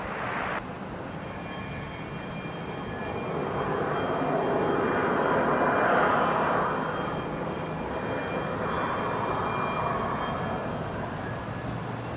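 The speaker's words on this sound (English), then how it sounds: "We'll follow out the Velocity 737-800 going to Sydney Virgin 938 off of 19 left" Virgin Australia Boeing 737-800 jet taking off from runway 19 left at Brisbane, a steady high engine whine joined by a rising roar that swells, peaks mid-way and slowly recedes into the distance.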